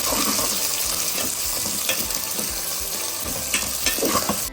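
Cut okra pieces fry in a pan while making okra pulusu, a continuous close sizzle with occasional stirring clicks and scrapes and no talking.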